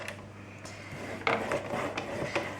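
Card stock being scored along a scoring board at the 3 11/16 inch mark, a soft scraping rub with a few light taps and rasps, heard close up and fairly quiet with no talk.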